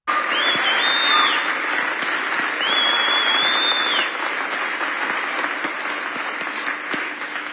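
An audience at a protest applauds a speech with sustained, loud clapping from a crowd. The applause holds steady for several seconds and then thins slightly, with a whistle-like tone rising twice above it.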